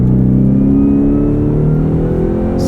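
A 2024 Ford F-150 Raptor R downshifting under hard braking into a corner, its engine note sustained and loud with stepped harmonic tones shifting as revs change, heard from inside the cab.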